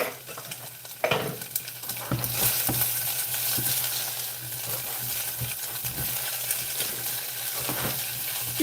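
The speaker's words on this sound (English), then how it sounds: "You're sizzling a wiener, you know what I mean?" Wieners pan frying give a steady, close sizzle with stirring clatter and a sharp knock near the start, continuing without talk throughout.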